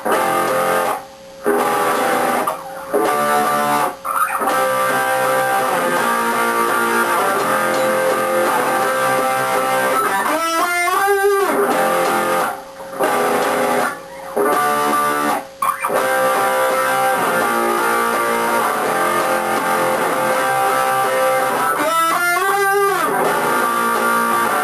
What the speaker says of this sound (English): which starts with the electric guitar.